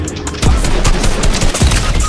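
Rapid automatic gunfire from a Fortnite battle royale match, loud, close bursts of repeated shots crackling almost continuously with heavy low thumps.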